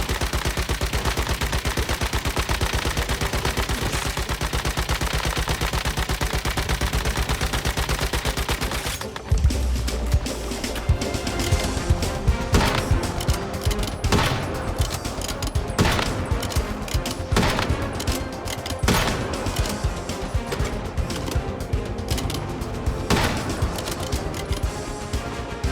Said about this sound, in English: Oh my god, my base is getting destroyed.